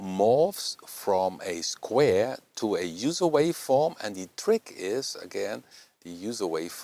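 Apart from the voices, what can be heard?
No distinct noise like a dog, phone or traffic.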